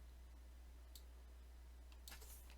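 Soft key presses on a computer keyboard for a Control V shortcut, one isolated click followed later by a short burst of taps, faint over a constant low electrical hum.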